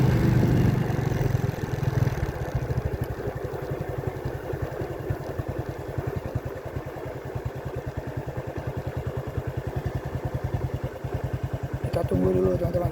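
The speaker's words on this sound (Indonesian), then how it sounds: "itu di depan ada motor mau lewat." A motorcycle engine chugs steadily nearby on a rain-slick road toward Belitang, a rapid even throb holding throughout, with a person talking over it.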